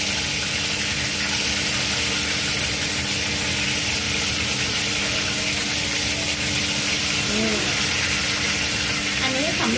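Garlic pork ribs frying in hot oil, a steady dense sizzle with crackling spatter running continuously throughout, fairly loud and close, with faint kitchen movement beneath.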